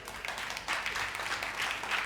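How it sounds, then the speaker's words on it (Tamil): A church congregation claps together at a Sunday service, a steady dense wash of applause that swells slightly midway and continues evenly throughout. "கைதட்டுங்க பார்க்கலாம்."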